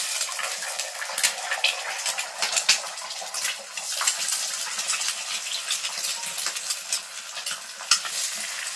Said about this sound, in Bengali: প্রথমে আমি এখানে ডিম ফাটিয়ে দেবো কড়াইয়ের দিকে।